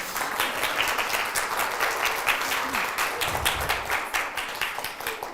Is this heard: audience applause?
yes